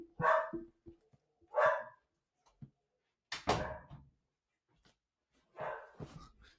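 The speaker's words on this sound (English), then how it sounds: "There goes my dog." A pet dog barks indoors in a few loud, separate bursts with quiet gaps between them, close to the microphone, alongside a faint whimper and a soft thump that may be a door.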